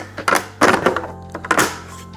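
A Melody Susie EOS 5 Pro nail lamp is pulled apart, giving a handful of close plastic clacks and thunks in quick succession, loud and sharp with brief pauses between.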